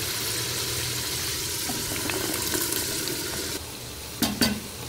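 Cauliflower goes into a pan of frying meat, bringing a close, steady sizzle with stirring scrapes and a couple of sharper clatters near the end, with no talking.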